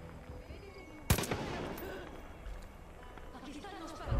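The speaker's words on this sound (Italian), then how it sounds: "A chi stanno sparando?" Gunfire in the shooter video game Far Cry 5: a sharp close shot followed by a rattling burst and scattered distant shots under ongoing game noise and voices.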